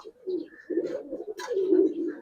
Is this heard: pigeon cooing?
yes